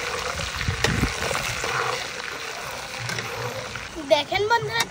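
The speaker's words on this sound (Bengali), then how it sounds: "বন্ধু একটু ভালোভাবে ভেজে নিচ্ছি রসুনটা" Garlic frying in oil for a green chili pickle, a steady close sizzle and hiss under a speaking voice, with a few sharper crackles toward the end.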